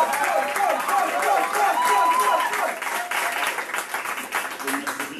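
Applause fills the hall at a French heritage language program gathering in Miami as a guest is welcomed, many hands clapping together under a murmur of crowd voices and gradually thinning toward the end.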